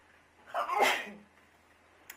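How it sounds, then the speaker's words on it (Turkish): A single close sneeze bursts out with a sharp breathy rush and trails off, followed by a faint small click in a quiet room. "Hapşıracağım."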